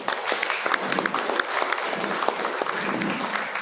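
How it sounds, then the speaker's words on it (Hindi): An audience at a talk on RCM breaks into dense, continuous hand clapping, close and lively throughout. "अच्छा लगा तो ताली बजाओ"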